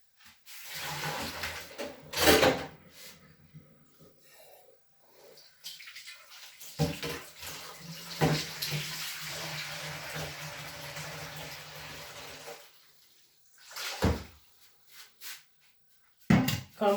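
An egg incubator part is rinsed by hand in a tub of foamy water, with sloshing and splashing that comes and goes in bursts between quiet pauses.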